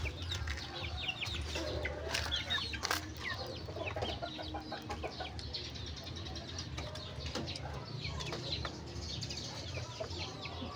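Native chickens cluck and murmur softly in a busy outdoor farm setting, with scattered bird calls and faint voices in the background.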